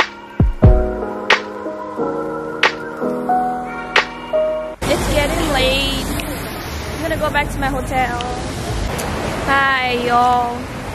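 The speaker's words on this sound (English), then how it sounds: "I'm behind a waterfall, so that's the noise you're hearing." A waterfall in Las Vegas gives a steady, loud broadband roar that starts abruptly after a few soft piano-like notes and continues beneath a person talking.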